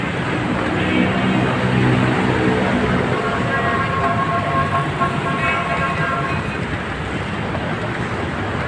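An LRT train passes near the Marikina footbridge, a steady loud rumble of rail cars with a faint high whine, running continuously with no talk.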